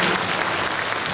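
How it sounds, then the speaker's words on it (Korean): Church congregation applauding an elder during a worship service, a dense, steady wash of many hands clapping at close range, continuous and loud throughout with no gaps. "우리의 그리움을 모아서 장로님께 영광의 박수 올리겠습니다"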